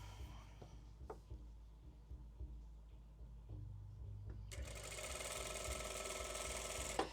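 A Jack sewing machine stitching stiff chiffon-like fabric, quiet mechanical ticking and whirring that rises into a steadier, louder running drone midway through.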